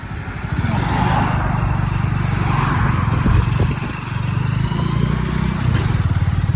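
A motorcycle engine runs steadily at close range while the bike tows another vehicle that has run out of petrol, a loud, even drone with slight throttle swells and no talking.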